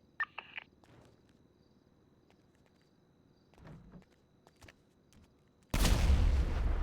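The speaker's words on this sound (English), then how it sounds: "Car blew up in the like parking lot." A car blows up in a parking lot in GTA NoPixel roleplay: after quiet footsteps and faint distant pops, a sudden loud, broad explosion roar bursts in and sustains to the end.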